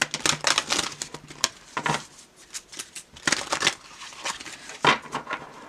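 Oracle cards shuffled by hand as a deck is mixed, a run of crisp riffling bursts and papery flicks in close, irregular clusters with short pauses between, no voice over them.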